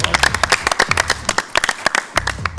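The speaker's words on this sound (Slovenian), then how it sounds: "Bravo, zaploskamo." A studio audience claps for a sumo-costume dance-off, a lively burst of fairly close, overlapping hand claps with uneven rhythm that thins out toward the end, plus a brief voice.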